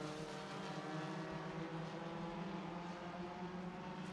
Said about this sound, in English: Side by side, the two leaders of their own racing class are duking it out into turn number 3.